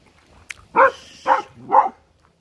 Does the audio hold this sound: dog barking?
yes